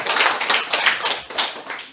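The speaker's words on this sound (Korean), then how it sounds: "미안하지만 색씨를 위해서 박수해 주세요" An audience at a sermon gathering claps briefly, a close, lively burst of many hands in uneven rhythm lasting about two seconds.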